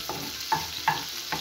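Garlic frying in a pan with butter for mashed potatoes, a soft continuous sizzle broken by about four short scraping stirs at a steady pace.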